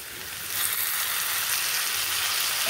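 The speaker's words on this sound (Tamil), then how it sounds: "நல்லா வதக்கி விடுங்க" Onions, tomatoes and green chillies sauté in a pan with a steady, close hiss and sizzle that swells slightly after the start and then holds even and continuous, with no talking.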